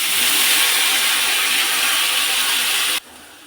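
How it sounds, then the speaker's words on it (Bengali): Poppy seed paste with ginger, tomato and green chilli hitting hot oil, a loud, broad hissing sizzle that holds steady for about three seconds, then drops sharply to a quieter simmer. "পোস্ত বাটা সব তেলে দিলাম আমি।"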